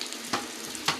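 Fish sizzling as it fries in a pan, a steady close crackle of oil with two brief louder bursts as the pieces are moved or stirred.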